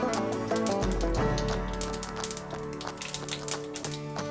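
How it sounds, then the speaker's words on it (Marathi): Mustard seeds crackle in hot ghee over a medium-low flame: scattered sharp pops and spits burst irregularly, partly masked by steady background music. "ही मोहरी जरा छान अशी तडतडून घ्यायची"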